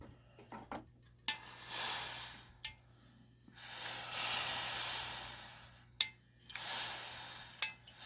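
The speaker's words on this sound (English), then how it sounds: "The clicking noise is every time I'm hitting the steam button." A steam iron pressing open a fabric seam releases several sustained hissing bursts of steam, each set off by a sharp click of the steam button, close and fairly loud with short quiet gaps between.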